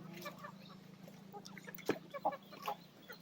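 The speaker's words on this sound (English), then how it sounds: "now see how their chickens are feeding easily" Chickens in a poultry shed cluck softly while feeding, with scattered faint calls and pecking sounds over a steady low hum, fairly quiet and slightly distant.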